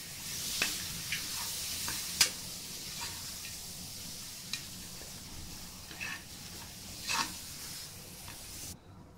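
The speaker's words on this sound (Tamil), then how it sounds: "அதையும் கொஞ்சம் நல்லா வதக்குங்க." Chopped tomatoes sauté in a pot for mutton kulambu, a quiet steady sizzle marked by occasional soft spoon taps and scrapes, close but low in level, with no talking.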